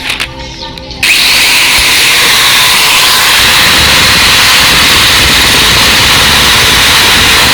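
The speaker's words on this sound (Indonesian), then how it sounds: "jadi kita bersihkan dengan cara digerinda seperti ini aja" An angle grinder cleaning a car driveshaft part, starting after a brief moment of quieter handling and then roaring loud and continuous with a bright, gritty whine that holds steady to the end.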